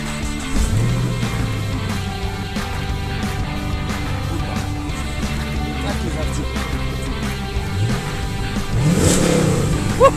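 A Chevrolet Camaro with a 6.2 V8 rumbles steadily at a low, throaty idle, then its engine swells into a louder rev near the end.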